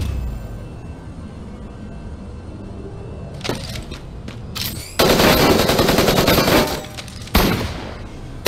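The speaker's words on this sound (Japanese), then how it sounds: "銃声が聞こえた" Bursts of rapid video game gunfire from Super Mecha Champions erupt after a quiet stretch, loud and dense, with a few sharp single shots before sustained firing and a final burst.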